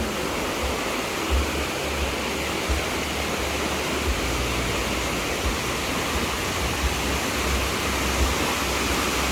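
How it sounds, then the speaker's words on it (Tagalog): Powerful rushing water from nonstop rain roars continuously and close, a dense unbroken torrent with low churning rumbles underneath. "Pero malakas pa din yung agos ng tubig sa taas."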